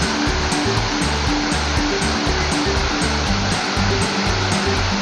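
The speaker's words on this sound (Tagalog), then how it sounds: "Ayan ang falls." Waterfall at Barangay Kanda in Lopez, Quezon, a loud continuous roar of falling water, steady and close, with no talking.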